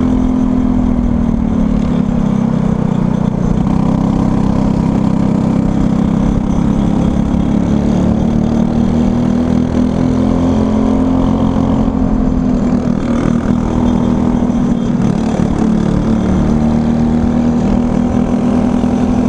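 Borrowed racing kart engine at a raceway droning steadily at near-constant revs, loud and close, with slight pitch rises and dips throughout and no talking.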